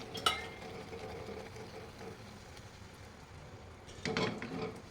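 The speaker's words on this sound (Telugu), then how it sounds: "గడ్డలు లేకుండా, ఉండలు లేకుండా బాగా కలుపుకోవాలి." A roasted gram laddu mixture is stirred in a pan over a low flame, giving quiet scraping and a couple of brief clinks of a utensil against the metal, one near the start and another toward the end.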